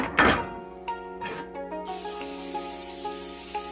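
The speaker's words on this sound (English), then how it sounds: "Spray in the pan." A sharp hiss of cooking spray into a baking pan, one short burst then a longer steady spray, close by and fairly quiet, with faint background hum.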